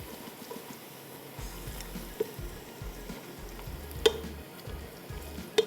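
Onions frying with cinnamon in a pan, a low steady crackling sizzle close by with a few sharp clicks from a utensil tapping the pan, and no talking.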